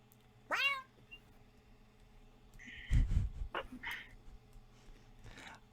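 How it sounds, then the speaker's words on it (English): A cat meows once, clear and fairly close, heard during a live tabletop Dungeons & Dragons game; a few faint, scattered thuds and noises follow in an otherwise quiet room. "You hear towards the north something that sounds like a cat's meow."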